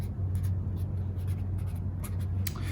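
Marker strokes on a classroom board as a word is written, a steady run of short scratchy squeaks close by over a constant low hum, with no talking.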